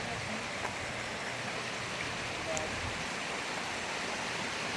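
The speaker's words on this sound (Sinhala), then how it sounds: "අපි ගඟේ ඉන්නේ දැන් මේ අවස්ථාවේ" River water flows steadily near Brașov, Romania, a soft continuous broadband wash that stays at an even, moderate level throughout with no distinct splashes.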